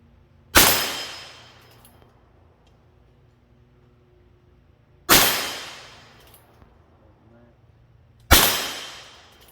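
Three loud single gunshots from a Heritage Rough Rider revolver fired outdoors at a target, each a sharp crack with a ringing decay, spaced several seconds apart.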